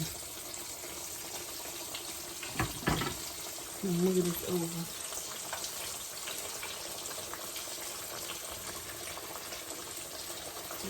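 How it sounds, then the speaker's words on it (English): Pork chops deep frying in grease give off a steady, fairly quiet sizzling hiss all the way through, with a few brief clatters partway in and a voice speaking over it. "Y'all hear that sizzling?"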